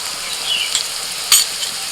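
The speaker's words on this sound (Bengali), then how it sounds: "সবজি কিন্তু খুব বেশি ভাজা হবে না সবজি হালকা করে ভাজতে হবে" Vegetables fry lightly in a pan for a sandwich filling, a soft steady sizzle with a couple of brief sharper crackles and faint stirring, no voices.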